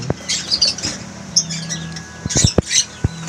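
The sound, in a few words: newly hatching pet bird chick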